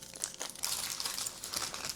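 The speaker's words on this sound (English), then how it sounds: "I'm gonna put foil between radish so they're not gonna stick together" Aluminium foil crinkling and crackling as it is folded between pieces of radish for freezing, a run of close, sharp rustles in uneven bursts with no voices.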